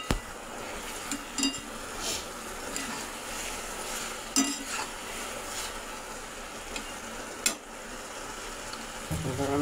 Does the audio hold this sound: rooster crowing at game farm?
no